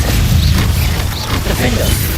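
Glacius freezing spell cast in Hogwarts Legacy: a dense, crackling burst of magic over steady game noise, with brief whooshing swells that stay close and loud throughout.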